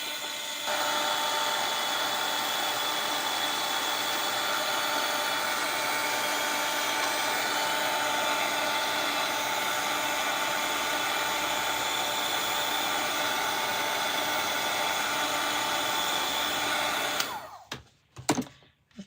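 A hair dryer blows steadily and loudly for about seventeen seconds to dry shimmer paint, then cuts off abruptly, leaving a few faint handling noises.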